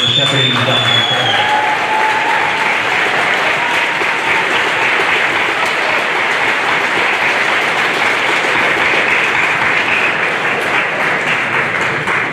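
An audience at an eighth grade celebration breaks into loud, sustained applause, a dense wash of clapping from a large crowd that continues steadily throughout.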